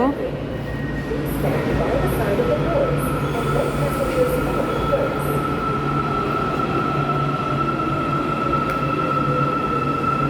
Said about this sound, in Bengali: ট্রেন চলে আসছে আমরা এখন ট্রেনে করে যাব